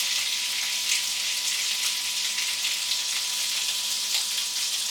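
Potatoes frying in olive oil in a hot pan give a steady, close, loud sizzle with fine crackling and popping throughout, alone without talk.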